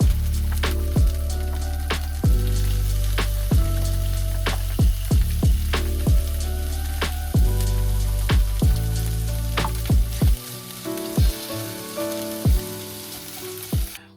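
Ground meat goes into a pan of mushrooms and onions sautéing in olive oil inside a Travato camper van, producing a loud, close, continuous sizzle punctuated by frequent sharp utensil clicks and stirring, with no voices.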